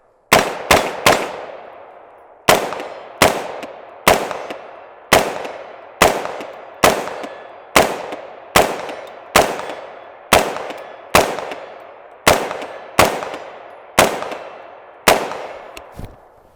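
Sharp, loud gunshots from an Inter Ordnance AR-15 rifle at an outdoor range, fired as about seventeen evenly paced single shots with a short pause early on, each crack ringing briefly before the next, with no voices.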